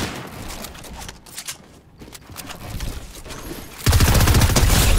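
Rapid bursts of gunfire from a Fortnite match crackle loudly and almost nonstop, growing denser and louder toward the end.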